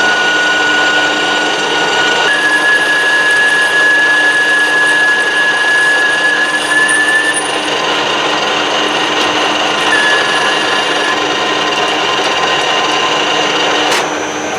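A metal lathe turning at 320 rpm takes a light finishing cut on a motorcycle wheel arbour. A steady, loud mechanical whir with a thin high whine runs unbroken for the whole stretch, with no talking.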